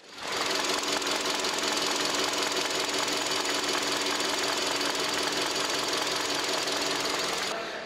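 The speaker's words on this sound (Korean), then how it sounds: "엔진 소리 굉장히 정숙합니다." A Hyundai YF Sonata LPG engine idles steadily with a soft, even ticking hum, close by with the hood open and unbroken for several seconds.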